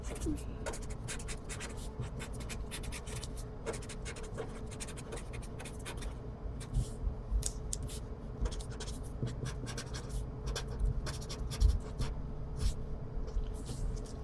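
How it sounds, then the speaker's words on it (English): Pen scratching on paper while writing Cornell notes for math, a run of short close strokes and taps that speeds up and bunches together, heard under a continuous speaking voice. "let me go ahead and write this on here"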